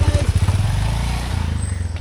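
A motorcycle running close by on a Kathmandu ride, its engine giving a loud, rapid, pulsing throb that holds steady for about two seconds.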